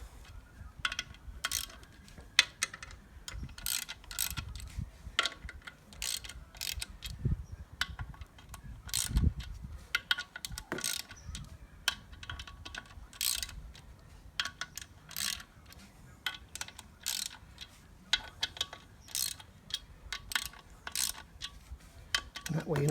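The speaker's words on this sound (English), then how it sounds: "And then we can get the ratchet on there" Ratchet wrench drawing down the clutch bolts evenly and diagonally while fitting an LOF clutch, a steady run of quick metallic clicks and ticks repeating close by over low background rumble.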